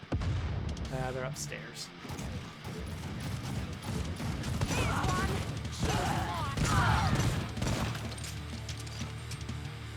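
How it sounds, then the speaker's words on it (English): Gunfire in the video game Necromunda: Hired Gun, dense bursts of shots, mechanical clatter and impacts filling the whole stretch, with someone talking over the combat. "Who's shooting me?"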